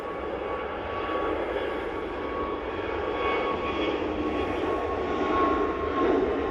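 Airbus A321neo jet airliner at Manchester Airport, a continuous broad engine roar with a steady whine, moderately distant and building slightly toward the end, no voices.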